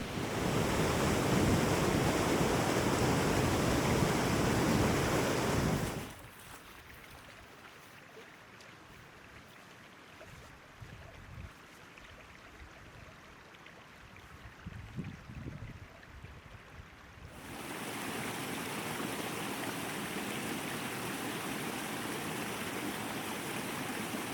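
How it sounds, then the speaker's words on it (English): Small waterfalls and a stream in Glen Affric in the Scottish Highlands rush with a loud, steady broadband roar that drops to a quieter, distant wash in the middle before the full rushing sound returns. "there were some lovely little waterfalls to be explored here."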